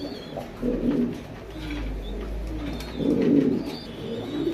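Imported pigeons coo close by in low, throaty, repeated phrases, with soft rustling between the calls.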